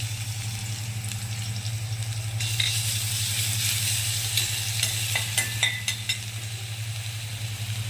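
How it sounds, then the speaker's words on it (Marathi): Tomato garlic paste goes into well-heated oil for a corn dish and sizzles loudly up close, the hiss swelling as it hits the pan, with sharp crackles and stirring scrapes near the end and no voices. "तेल तापलंय, तेल छान तापू द्यायचं, मग आपण ही पेस्ट त्याच्यात टाकून घेऊया"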